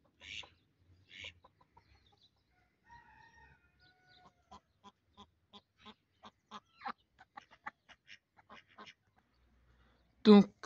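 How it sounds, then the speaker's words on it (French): Geese and ducks at a home poultry breeding yard give scattered calls, a run of short, evenly spaced honks and quacks with a sharper, louder squawk near the end, over a quiet background. "je vous laisse avec quelques pleurs des oies et puis des canards"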